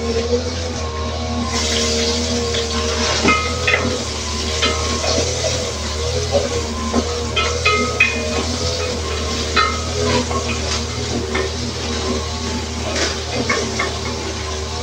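Garlic and onion sautéing in a pan for a home-cooked lunch give off a steady, close sizzle with scattered crackles and pops, with no talking.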